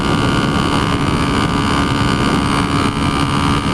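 A 1976 Honda CB125S motorcycle ridden at about 45 to 50 mph, loud continuous engine drone under heavy wind rush, steady throughout.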